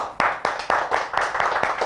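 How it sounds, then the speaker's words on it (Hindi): An audience at a health talk on diabetes and knee and joint pain claps together in a quick, even rhythm of about four beats a second, close and loud, with no talk over it. "एक बार इनके लिए ताली मारो।"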